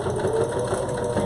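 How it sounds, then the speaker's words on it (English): A sewing machine runs continuously, stitching a hem onto a reusable cloth face mask with a steady, close mechanical whir and no pauses. "So I am going to stitch that now onto my mask."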